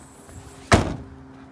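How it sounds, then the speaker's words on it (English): A Kia Sedona's powered door closes with a single solid thunk that rises suddenly and fades over about a quarter second, heard nearby against a quiet background. "If you want to close the doors, just hold them again, and the doors will close right up for you."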